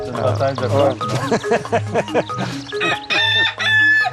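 A rooster crows loudly and close, several drawn-out calls with clucks in between, while people talk in French over and around it.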